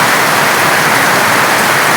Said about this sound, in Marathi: मुसळधार पाऊस चालू आहे